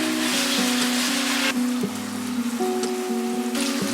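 Tofu drops into hot oil in a wok and fries. A loud, dense sizzling hiss gives way after about a second and a half to a quieter, steady crackle, close by, with soft music underneath.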